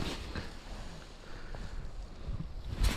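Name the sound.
wind blowing over a lake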